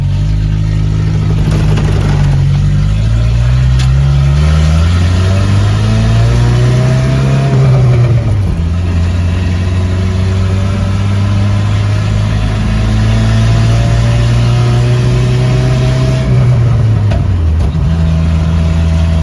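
A Datsun 521 drives down the street, its engine loud and close, revving up and easing off through several rising and falling pulls, like shifting through gears.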